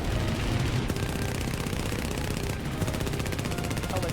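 Rapid, dense machine-gun fire from a kamikaze fighter plane in War Thunder, a continuous loud rattling burst across the whole stretch with a steady engine roar beneath.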